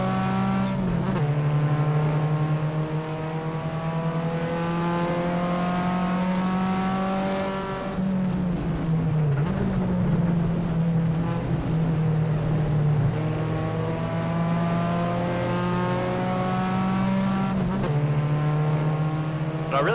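A Holden Torana XU-1 engine drones continuously in a historic racing video game at Wanneroo 1972, the revs holding high then dipping and climbing again through gear changes, loud and close, with other cars faintly audible around it.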